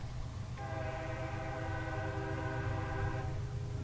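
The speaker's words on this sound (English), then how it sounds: "As we hear the train passing on the western side." A train horn sounds near a cricket field during a league final, a steady multi-tone blast held for about three seconds over a low rumble, somewhat distant and with no talk.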